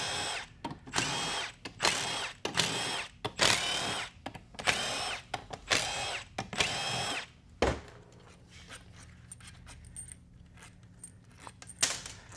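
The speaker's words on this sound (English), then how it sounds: "I think I've had this small Milwaukee gun now for about 6 months, Teresa?" A small Milwaukee power tool gun runs in a series of short, loud whirring bursts, followed by quieter clinks and mechanical handling sounds.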